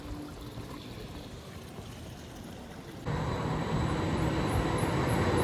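A tram passes through Freiburg, its broad rumbling rail noise steady at first, then jumping abruptly louder and closer about halfway through and holding there.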